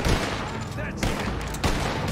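Gunfire rings out in Red Dead Redemption 2, with three sharp, loud shots spaced roughly half a second apart and a voice talking alongside them.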